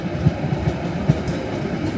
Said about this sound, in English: I'm going to jump on this next train now, head towards Liverpool